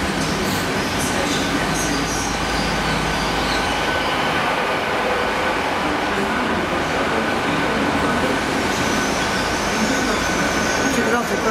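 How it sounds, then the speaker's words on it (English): Northern Belle poppy train, two locomotives, passing through Cardiff Central station with a steady rolling rumble and rail noise throughout, loud and continuous, with faint wheel squeal. "Here we have the poppy train, or rather two of them."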